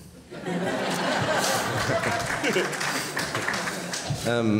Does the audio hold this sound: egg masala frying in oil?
no